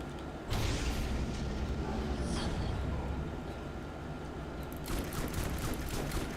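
Bulldog shotgun in Borderlands 1 firing in rapid repeated blasts, loud and close, with a burst at the start and another cluster near the end, mechanical clatter between shots and no voices.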